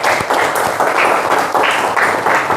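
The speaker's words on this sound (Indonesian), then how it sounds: "beri tepuk tangan dulu untuk yang sudah menjawab" A class of students claps together in a steady, rhythmic applause, loud and close, the claps pulsing evenly throughout.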